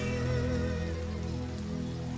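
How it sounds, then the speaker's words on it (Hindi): Steady rainfall hisses in an even, continuous wash, faint and unbroken, with a low tonal hum lying beneath it and no voices. "इतनी बारिश हो रही है"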